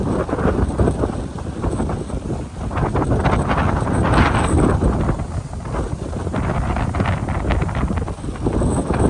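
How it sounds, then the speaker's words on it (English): Strong Santa Ana wind on the Southern California coast buffets the microphone in a loud, continuous roar with gusting swells and rumble, no voices. "I'm trying to hide my mic so I don't pick up too much of the wind here this morning."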